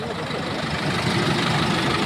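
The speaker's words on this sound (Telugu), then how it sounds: "బండి రన్నింగ్లో ఉంది." A 2023 Tempo Traveller 12+1 seater, BS6 with AdBlue, idling with a steady, close diesel rumble and hum throughout, no voices over it.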